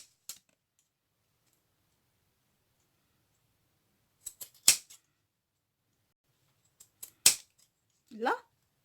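Scissors snipping craft material for a boho junk-journal traveler's notebook, two short clusters of crisp close clicks and snips separated by silence, followed by a brief murmur of voice.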